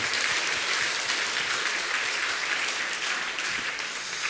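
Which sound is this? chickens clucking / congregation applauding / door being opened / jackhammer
congregation applauding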